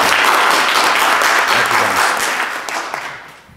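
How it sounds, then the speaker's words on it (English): A church congregation applauding during a Sunday service, loud sustained clapping from many hands that fades out over the last second. "Can we give our deacons a big round of applause this morning for bringing that up?"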